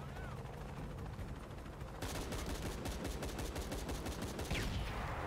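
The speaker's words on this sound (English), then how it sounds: "Dude, I can't shoot. Using the machine gun sucks." Machine gun fire in a video game: steady rapid bursts of automatic shots dominate the second half, after a quieter stretch of game ambience at the start.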